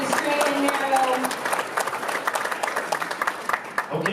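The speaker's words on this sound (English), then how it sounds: "Let's give Angel a round of applause" A crowd at a company workshop session gives a round of applause, with brief talk at the start, then steady, full clapping that grows choppier and thins toward the end.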